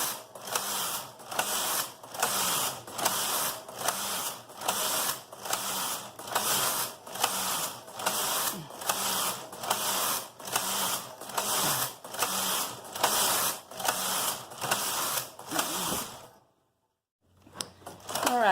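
A Brother 930 knitting machine carriage runs back and forth across an 892 bed, giving a loud, steady mechanical rattle in regular repeating passes, then a brief silence before a softer knock.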